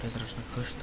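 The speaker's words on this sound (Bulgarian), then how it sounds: "Много, много мухи има." Swarm of flies buzzing in the horror video game Resident Evil 7, a dense steady drone inside a spooky house, with someone speaking softly over it.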